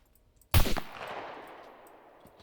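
A single sharp gunshot in the video game SCUM cracks loudly, followed by a long fading reverberant tail; the rest is quiet.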